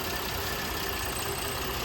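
Car engine idling with the oil cap held down, a steady continuous drone close up with no breaks or speech.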